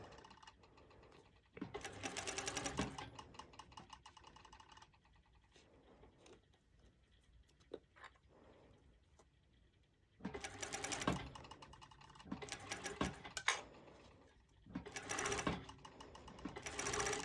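Sewing machine stitching net overlay fabric for pole dance bottoms, running in several close, loud bursts of rapid needle clatter separated by quieter pauses with light handling noise.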